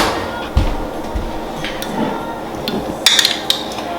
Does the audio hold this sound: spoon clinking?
yes